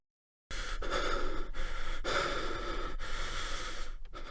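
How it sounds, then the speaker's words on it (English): Guts, the Berserk warrior in the Guardians of Desire 2 game, breathes heavily after a pause of silence, with repeated loud, rough inhale and exhale gasps close to the ear. "He's breathing heavily."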